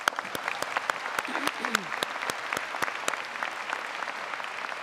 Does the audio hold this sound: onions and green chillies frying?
no